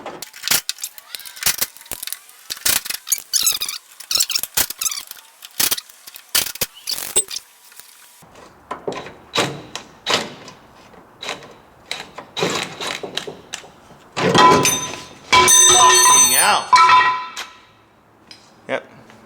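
Bolts, 9/16 inch, are worked loose from the cross member of a 1963 Ford Falcon, giving sharp metallic clicks and ratcheting bursts with a few clanks, close and intermittent, ending in a louder stretch of grinding mechanical noise.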